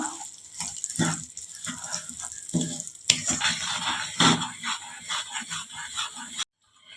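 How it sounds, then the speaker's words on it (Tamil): Sugar syrup stirred in a pan over a low flame, a steady wet sizzle with scraping and swishing strokes throughout, close and fairly loud, ending in a brief pause. "சிம்மில் வச்சுட்டு இதை கிளறி விட்டுக்கிட்டே இருக்கலாம்"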